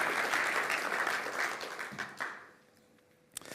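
An audience at a talk on the XRP Ledger gives loud, sustained applause that thins out and fades to near silence, with a single sharp clap near the end.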